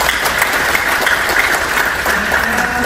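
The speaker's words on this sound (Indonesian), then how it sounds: "Tepuk tangan buat Pak Resto." An audience gives a round of applause to Pak Resto after his talk, a loud continuous wash of many hands clapping that holds steady for a few seconds.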